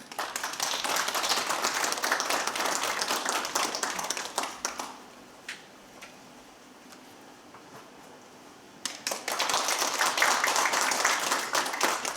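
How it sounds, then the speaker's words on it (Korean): An audience at a traditional pansori performance claps enthusiastically in a dense burst, quiets into a lull with scattered claps, then swells into loud sustained applause again. "큰 박수로 청해 주십시오"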